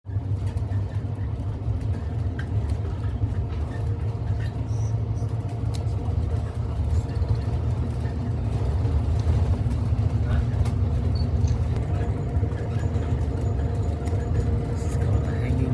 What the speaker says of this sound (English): Back on the bus, heading back down.